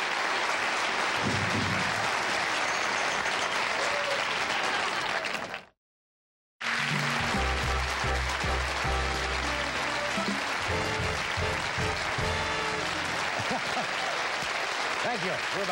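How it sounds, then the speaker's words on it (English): A studio audience at The Tonight Show with Johnny Carson bursts into loud, sustained applause that fills the room, broken by a brief silent gap before the clapping resumes with music underneath. "And applause."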